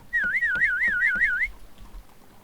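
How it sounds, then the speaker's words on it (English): A person whistles a warbling, trilling tune for just over a second, close and clear, then fades out to quiet background with no talk. "I'm whistling."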